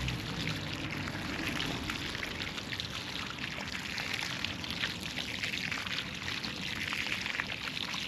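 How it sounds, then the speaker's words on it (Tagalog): Water pours and splashes steadily near the Pasig River, a continuous close rushing with a trickling texture and no pauses. "Water."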